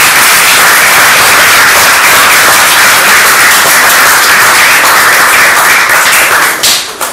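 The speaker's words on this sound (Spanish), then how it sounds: "pido un aplauso para ellos" Loud, dense applause from a crowd of students fills the room without a break, a thick wash of clapping that tapers slightly at the end.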